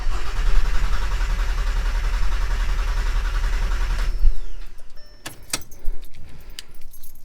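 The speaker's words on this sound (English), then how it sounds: "you can actually crank the ignition over on the vehicle, and that will alleviate the pressure. The vehicle probably will not start." A VW with an 07K engine and its fuel system depressurized is cranked without starting: a loud, low, rhythmic starter churn for about four seconds, then it stops and keys jangle close by.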